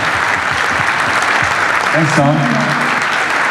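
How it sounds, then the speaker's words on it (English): A conference audience at a Bitcoin forum in El Salvador applauds loudly and continuously, a dense steady wash of clapping throughout, with a voice briefly thanking someone over it. "please join me in giving the loudest applause of the day"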